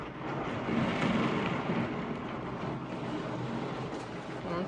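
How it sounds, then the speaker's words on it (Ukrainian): A heavy downpour outside a home window gives a dense, even roar of rain that keeps a constant level throughout, with no voices. "Ну, камера не так передає, але іде злива."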